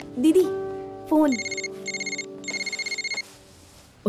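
A telephone rings in short repeated trilling bursts, with a few rings followed by a pause and another series, while a voice is heard briefly at the start and the end in an indoor domestic scene.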